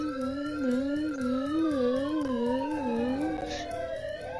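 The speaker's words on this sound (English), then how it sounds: "I really like their sirens." Wailing police sirens from the game Thief Simulator rise and fall steadily at moderate loudness, heard alone with no talking.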